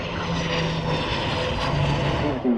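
A Hongdu L-15E jet trainer flying a display at Farnborough Airshow 2026 produces a loud, steady engine roar with a low droning hum that holds throughout, with no talk over it.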